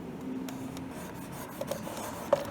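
A scraper rasps steadily across the back of an old, oxidized wooden furniture piece, a quiet continuous rubbing with a few small clicks and a sharper tick near the end.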